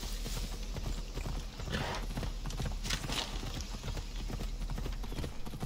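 Horse hooves clip-clop steadily in Assassin's Creed Odyssey, a continuous run of fairly quiet, even hoofbeats with no talking over them.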